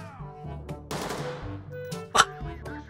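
Gunfire in the Ready or Not video game comes as a few sharp, fairly quiet shots spread over a few seconds, with one louder crack near the end.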